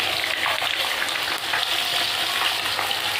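Mustard seeds crackle and sizzle in hot oil in a kadai, a tempering for a sour puti fish dish: a continuous, dense frying hiss, close and steady throughout.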